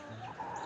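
A rooster on a backyard flock of hens gives a couple of soft, close clucks, brief and alone with no talk.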